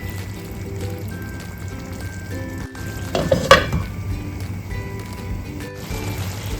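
Pork and tapioca curry being stirred in a pan, a soft wet sizzle with squishy stirring and a brief louder scrape of the spoon midway, no talking.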